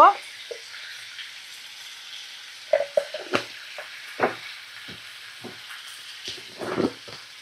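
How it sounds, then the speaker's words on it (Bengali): Vegetarian vegetables frying in a pan with green chilli and turmeric, heard as scattered spatula scrapes and clinks of stirring over a faint, low sizzle. "দেখো, আমি এখনো ভাজা করছি।"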